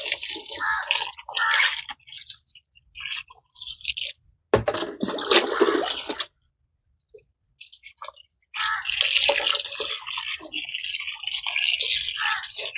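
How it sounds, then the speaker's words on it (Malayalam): Water poured into a planting pot for a water lily, with irregular splashing and trickling bursts and a brief pause, fairly close and with no voices. "എന്നിട്ട് പിന്നെ ബാക്കി വെള്ളമായിട്ട് ഒഴിക്കുക"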